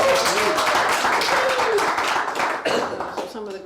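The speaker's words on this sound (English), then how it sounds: "you heard a little applause, which you don't normally have" A small live audience claps at a fiddle and viola da gamba music session, loud close hand claps that are sparse and uneven, with a voice talking over them the whole time.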